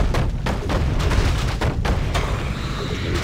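Battle noise from a town under attack in the Warcraft 3 orc campaign: a dense, continuous clash of game combat effects with repeated sharp impacts and booms, loud and busy throughout without any clear voice.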